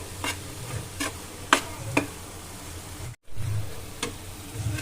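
A vegetable curry with Maggi masala stirred in a pan, a low steady sizzle broken by regular scraping strokes of a spoon roughly every half second, close by, with a brief dropout near the end.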